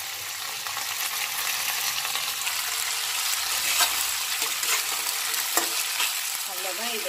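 Onion, tomato and tamarind sautéing in a pan for onion chutney, a steady close sizzle with occasional scraping stirs and a few sharper utensil knocks, no voices.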